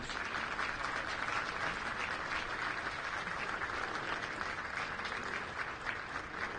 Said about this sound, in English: Please join me in a round of applause for these great soldiers.